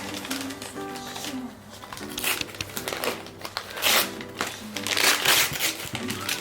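Christmas present being unwrapped, with crinkling, tearing wrapping paper in bursts over background music and household chatter.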